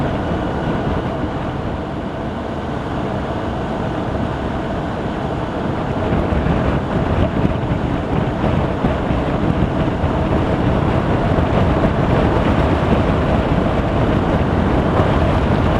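Strong crosswind buffets a BMW R1200RT motorcycle on an open road, a loud, steady wind roar that thickens and grows rougher about six seconds in, with no talking.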